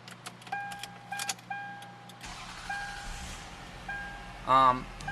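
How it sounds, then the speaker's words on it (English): A 2002 Lexus RX300 engine cranks and catches, then idles steadily and smoothly at close range, with keys jangling at the start and a brief voice near the end. "I'm actually going to start the car for you, just so you can hear the car run."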